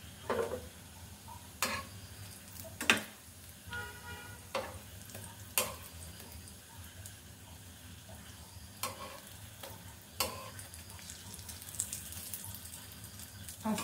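Potato chops (aloo chop) fry in hot oil as they are turned, a low steady sizzle broken by scattered sharp clicks and scraping taps from the utensil, close by and with no talking.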